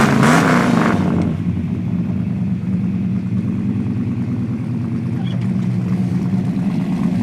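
The V8 of a 1970 Pontiac GTO rumbles at a loud, close, steady idle, opening with a brief rev and settling into a deep, continuous burble.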